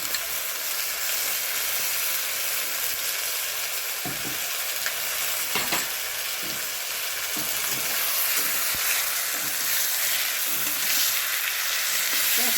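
Onion, garlic and ginger paste fries in a pan for Bengali rohu fish kalia, a dense, continuous sizzle and hiss with occasional soft knocks of a stirring spoon, close and alone.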